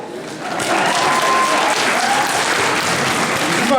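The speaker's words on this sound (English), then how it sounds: "Please clap for me." Audience applause at a Diwali cultural show with Bharatanatyam dance, a broad wash of many hands clapping that rises quickly after a quiet start and holds loud and steady.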